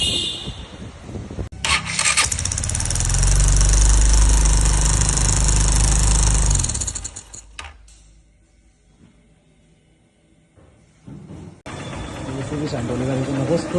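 A Honda CB Shine motorcycle engine, freshly rebuilt after a full service, is started and roars loudly for several seconds before cutting off, followed by quieter shop noise and people talking.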